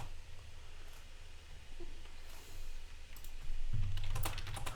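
Someone types on a computer keyboard, a soft, quick clatter of keystrokes that stays faint and close against a quiet room hum, with no speech.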